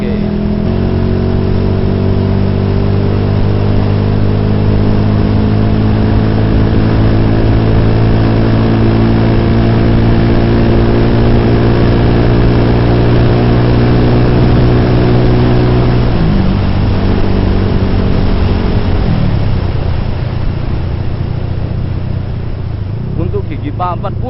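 A fully built motorcycle running steadily on a ride, its engine note holding a steady pitch with harmonic drone, then dropping and shifting near the end as speed changes, with wind rush throughout.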